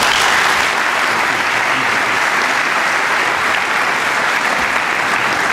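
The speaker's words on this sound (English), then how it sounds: "Please help me welcome Andy Henriquez" A commencement audience at the FSU College of Business gives a speaker a loud, sustained round of applause, dense clapping filling the hall evenly throughout.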